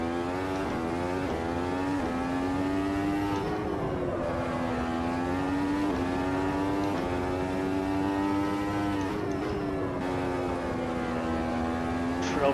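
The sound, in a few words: Formula Ultimate race car engine at Brands Hatch, racing video game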